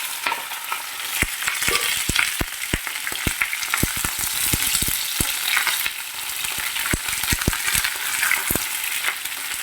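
Baby potatoes fry in hot oil, giving a loud, continuous sizzle crowded with rapid crackling pops, close by and with no voices.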